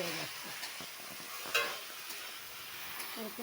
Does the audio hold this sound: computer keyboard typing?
no